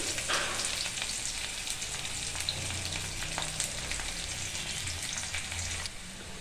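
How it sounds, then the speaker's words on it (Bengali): Steady, close sizzle of onions frying in a pan, a dense crackling hiss that holds even throughout, easing slightly at the very end. "পেঁয়াজগুলো একটু লাল করে ভেজে নিই।"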